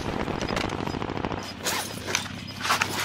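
Enemy gunfire in Call of Duty Warzone, a rapid continuous burst of automatic shots followed by scattered louder cracks and a few distant pops.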